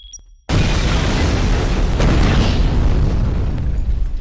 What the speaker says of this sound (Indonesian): ledakan pun terjadi yang membuat semua orang panik dan berhamburan keluar dari dalam bank